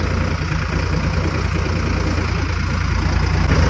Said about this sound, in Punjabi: ਮੈਂ ਕਿਹਾ ਚੱਲ ਅੱਜ ਇੱਕ ਗੇੜੀ ਹੋ ਜਾਵੇ ਟਰੈਕਟਰ ਤੇ